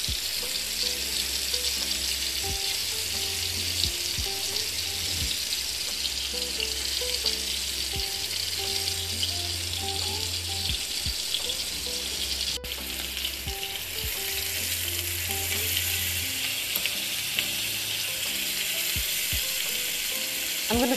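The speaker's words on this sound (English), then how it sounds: "I'm going to brown this 2 to 3 minutes each side." A beef roast sears in a hot pan, a loud, steady sizzle and crackle of frying fat that holds throughout, with faint soft music underneath and no talking.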